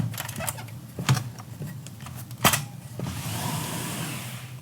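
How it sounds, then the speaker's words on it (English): An aluminum CGI Scout 4025A sliding glass door latch engages its keeper with a few close metallic clicks and clacks, one sharper snap standing out, followed by a soft sliding rush; no talking. "Now I can test out the latch onto the keeper."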